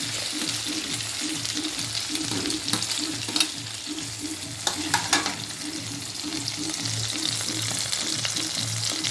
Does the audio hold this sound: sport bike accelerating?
no